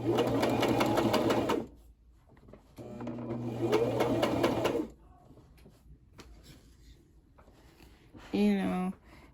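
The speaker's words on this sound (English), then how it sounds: "I'm just going to back stitch and forward." A sewing machine runs in short bursts while stitching a seam backward and then forward on pants being turned into a skirt, with quiet pauses between runs and a brief voice near the end.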